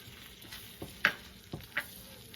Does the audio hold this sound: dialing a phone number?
no